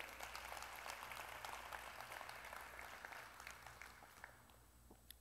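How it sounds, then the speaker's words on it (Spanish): A church congregation applauds during a service: dense, faint clapping heard from a distance, steady at first and gradually tapering off. "Denle un fuerte aplauso al Señor."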